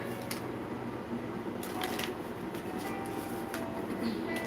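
Tarot cards are shuffled during a live reading, a run of soft riffling and flicking bursts close by over a low steady background hum.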